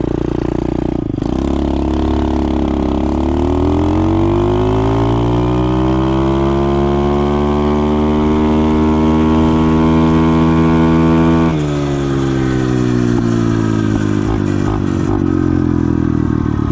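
An SSR 125cc pit bike engine revs hard and accelerates, its loud buzzing pitch climbing steadily, dipping briefly at a gear change and then rising again, with no talk over it.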